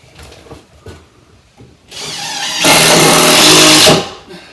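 Power drill driving screws during a kitchen build, a loud whirring burst that ramps up then holds at full speed for under two seconds before stopping, preceded by quiet handling noises.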